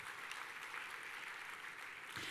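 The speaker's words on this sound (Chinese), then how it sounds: "给我们爱多美一个掌声。" Audience applause for a company event's decorations, a steady dense wash of clapping that holds for the whole stretch, close and even in loudness.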